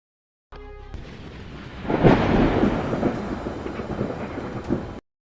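Thunder from lightning in heavy night clouds: a sharp crack swells into a long, deep rolling rumble that grumbles on for several seconds, with faint rain in the background.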